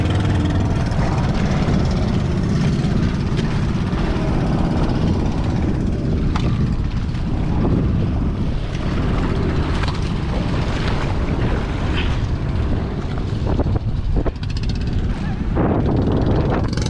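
Boat motor running steadily near an island fishing ground, a loud continuous engine drone with propeller churn that holds throughout, with faint voices now and then under it.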